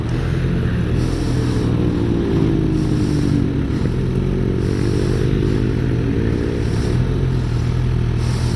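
A 2016 Suzuki GSX-R 750 engine running loud and close, with a steady roar whose pitch dips and rises as the bike pulls away, plus continuous mechanical clatter and wind noise.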